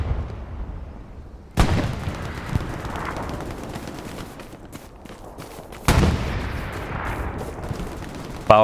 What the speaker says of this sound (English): And he misses with the Gewehr 43.